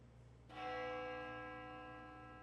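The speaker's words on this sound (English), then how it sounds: "The sound of a bell echoes in my ears." Bell from the video game Death Mark II, a single struck chime with bright ringing overtones that rings out and slowly decays over a faint low hum.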